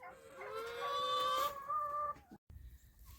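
Chickens on a chilly homestead yard, a drawn-out cackling call rising and falling over about two seconds, close and clear, followed by a few quieter clucks.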